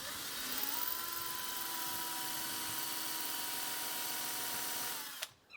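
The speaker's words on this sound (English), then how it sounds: "Now I'll use this countersinking bit to make a hole for the screw head." A power drill with a countersinking bit bores a screw hole into a wooden stool, a steady high whine held for about five seconds before spinning down and stopping abruptly.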